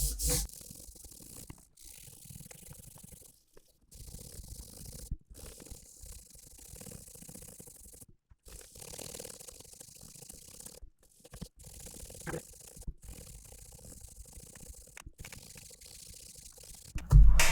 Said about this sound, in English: Now I'm going to go through with my polishing pads.